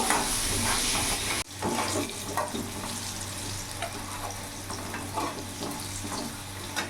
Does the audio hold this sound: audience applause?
no